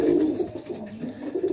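A young Serbian highflyer tippler pigeon coos close by, a low, soft rolling call repeating in gentle pulses with no talk over it.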